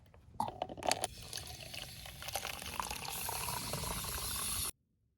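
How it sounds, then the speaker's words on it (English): Diluted enhancer concentrate mixed with water being poured onto a small potted plant, a steady close splashing stream that runs for several seconds, with a few louder splashes near the start, before stopping abruptly. "So same thing, I'll mix some of the concentrate up with some water and water the smaller plant in."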